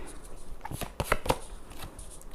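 Tarot cards are drawn and shuffled during a reading, giving a few soft, quick riffling and flicking sounds clustered in the middle, close and fairly faint with no talking.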